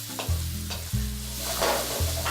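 Ingredients for shrimp sorel hitting a hot pan and being tossed, sharp bursts of sizzling with clattering and scraping at each toss, loud and close, no speech.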